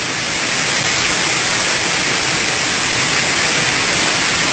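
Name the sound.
waterfall flowing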